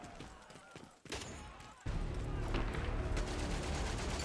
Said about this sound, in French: il y a encore un mec avec la mitrailleuse